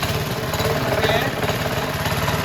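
A vintage Cunningham walk-behind tractor engine running rough, a loud, close, continuous uneven putter with pulsing low-end chugging throughout.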